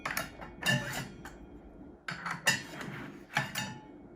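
An under-sink structured water filter housing is tightened with a tool, giving three short bursts of faint clicking and ratcheting with quiet pauses between them.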